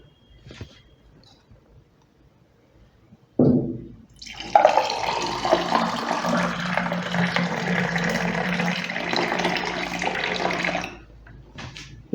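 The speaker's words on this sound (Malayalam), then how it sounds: "നമുക്ക് ഗ്ലാസ്സിലോട്ട് ഒഴിക്കാം." Freshly blended carrot juice, sweetened with sugar and lemon, is poured into a glass in a steady, rushing stream lasting several seconds after a brief clunk, then tapers off.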